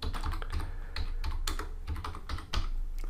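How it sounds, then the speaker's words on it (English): Rapid typing on a computer keyboard, close and crisp, a quick irregular run of clicky keystrokes with no talk. "So you can put anything you want in there just by typing in here."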